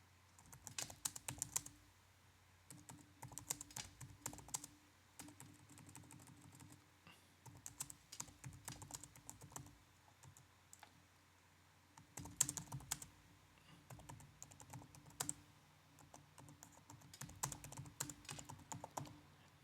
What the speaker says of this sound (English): And then you type what you want to type.